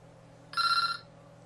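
A telephone rings once in a short loud burst, a steady electronic bell tone cutting in over a quiet room hum, then stopping.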